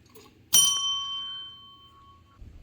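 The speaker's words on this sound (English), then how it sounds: "Should I ring the bell?" A single bright ding from a bell at a wildlife museum, struck once close by and ringing out with a long, slowly fading metallic tone.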